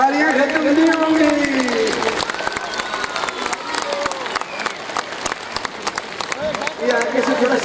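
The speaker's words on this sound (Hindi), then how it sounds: "डॉक्टर साहब के सामने से तालियां खत्म नहीं होंगी।" Dense, loud applause from a crowd welcoming Dr Abdul Qadeer Khan in Kahuta, continuous clapping with voices and shouting layered over it throughout.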